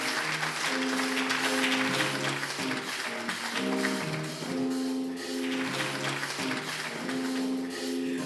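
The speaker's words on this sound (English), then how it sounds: "Now please give a warm round of applause for your host for tonight" Audience applause at the Volunteer Memphis Awards gala as the evening's host is welcomed: a steady wash of clapping throughout, mixed with a live band playing underneath.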